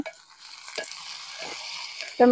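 Tomato and green chillies sautéing with softened onion and spices in a pan: a soft, continuous sizzle broken by a few scraping stirs, ending with a louder clatter of the spoon against the pan.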